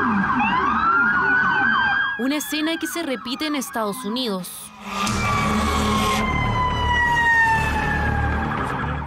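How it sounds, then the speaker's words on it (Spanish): Ambulance sirens wail loudly and close by as the vehicles race toward a school in Nashville, United States, during a shooting. The sirens sweep up and down, break briefly while someone speaks over a mix of sirens, then rise again and carry on. "Ambulancias que se dirigen a un colegio en el que una persona abre fuego indiscriminadamente."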